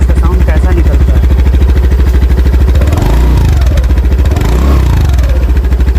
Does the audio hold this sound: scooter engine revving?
yes